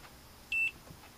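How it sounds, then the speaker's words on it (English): A single short electronic beep from an EICO 950 meter as its measurement mode is switched, a clear steady tone lasting about a fifth of a second against quiet background. "That beep here is my change in the mode of the meter."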